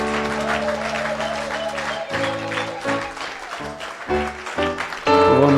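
A church congregation applauds after a consecration prayer at the consecration of Bishop Claude Djessa, with steady clapping mixed with sustained musical tones that swell near the end.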